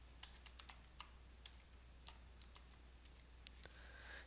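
Quiet, close keystrokes on a computer keyboard as a password is entered, a dozen or so irregular clicks over a steady low hum, no talking.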